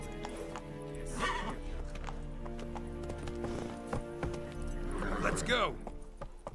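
Roach the horse from The Witcher 3 whinnies and clops along at a steady hoofbeat, a game soundtrack humming beneath and someone speaking briefly over it.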